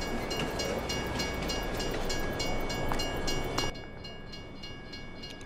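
A train in Farming Simulator 22 on PS5 rumbles past with steady rolling clatter and rhythmic rail clicks, loud and near, then cuts to a quieter hum partway through.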